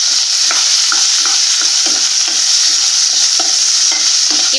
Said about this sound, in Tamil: இப்போ இந்த வெங்காயம் வந்து லேசா வதங்கி வரட்டும்.